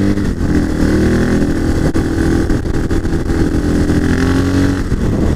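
A CCM R30S motorcycle ridden on a cold, dry morning along the Isle of Wight Diamond Races road circuit, its engine droning loud and steady close to the rider, rising and falling slightly under continuous wind noise.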